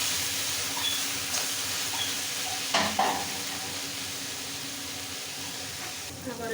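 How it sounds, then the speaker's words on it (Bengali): Prawns and ivy gourd cook in a pan with a continuous hissing sizzle, while a spatula stirs them now and then with brief scraping knocks. "মাঝে মাঝে একটু নেড়ে নেবো বন্ধুরা।"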